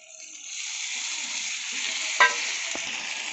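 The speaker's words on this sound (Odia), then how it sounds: "ମସଲା ସିଝିବା ପାଇଁ ଆମେ ଟିକେ ପାଣି ଦେବା।" Masala with red chili powder sizzles steadily in hot oil after a splash of water, a constant close frying hiss broken by a brief clink of stirring partway through.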